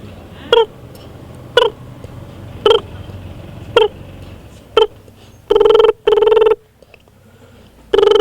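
A performer at a Mandawa haveli in Shekhawati imitates a telephone with his voice, first five evenly spaced busy-tone beeps, then two longer buzzing rings and the start of a third, close and clear over quiet room noise.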